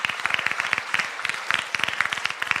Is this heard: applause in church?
yes